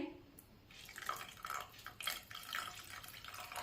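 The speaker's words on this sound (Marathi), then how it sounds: "ज्यामध्ये आपण टोमॅटो सुरुवातीला उकडून घेतले होते ना, ते पाणी यामध्ये टाकते" Water saved from boiling tomatoes is poured into a thin Maharashtrian tomato saar, giving soft splashing and trickling bursts near the pot.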